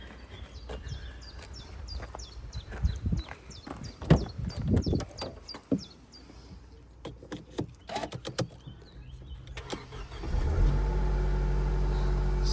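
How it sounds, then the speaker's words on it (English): A Mercedes C-Class W204 with a jump-started battery: after some scattered clicks and handling noises, the engine fires near the end and settles into a steady, low, close idle hum. "so now I can start the car"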